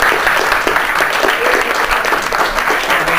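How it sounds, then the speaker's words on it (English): Applause for the panelists at an Occupy Wall Street gathering, a loud, close and sustained burst of many hands clapping that holds steady throughout. "let's please give all our panelists a big round of applause"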